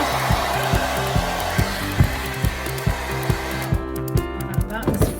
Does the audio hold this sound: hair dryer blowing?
yes